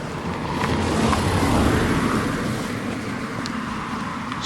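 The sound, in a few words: heavy road traffic passing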